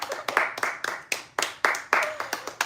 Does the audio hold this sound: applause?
yes